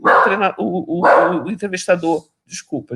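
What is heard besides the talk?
dog barking at home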